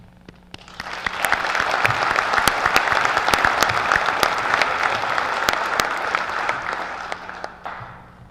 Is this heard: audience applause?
yes